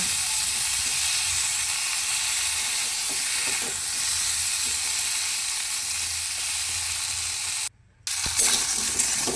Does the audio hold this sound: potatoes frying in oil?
yes